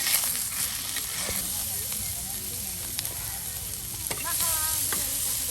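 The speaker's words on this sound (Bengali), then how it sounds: "এই যে দেখুন মাছ ভেজে ভেজে কিন্তু এখন উঠে নেওয়া হচ্ছে" Hilsa fish fry in a pan in a village kitchen, a steady sizzle and crackle with a few sharp clicks. A voice talks over it now and then, and a short chirping sound rises near the end.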